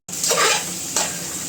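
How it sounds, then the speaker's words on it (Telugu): Chickpeas being stirred with salt in a frying pan, with two close, brisk scraping strokes of a spatula over a steady hiss of frying. "ఇప్పుడు ఉప్పు వేసి మంచిగా కలుపుకోవాలి."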